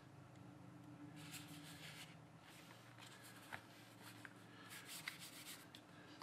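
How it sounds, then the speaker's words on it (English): Blackwing 205 pencil writing notes on paper, faint close scratching and scribbling strokes in short bursts with small taps, quiet and alone. "let's go ahead and write some notes here"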